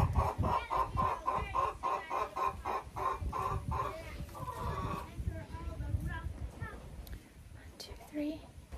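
Splash Wyandotte chickens and roosters cluck in a rhythmic run of close, repeated calls that later break into scattered clucks and squawks.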